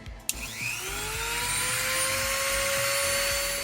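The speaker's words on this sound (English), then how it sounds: "I can take care of these uneven cuts with my handy dandy rotary tool" A Dremel rotary tool whines up to a steady, loud buzzing pitch after a short click, running continuously close by while cutting foam.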